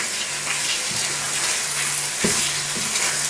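Burrito cooking sauce sizzles in a pan, a steady broadband frying hiss running the whole time with faint stirring clicks and a low hum underneath, close and fairly loud.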